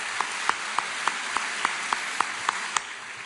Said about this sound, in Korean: Let's give a good clap hand to 우리 grandmothers.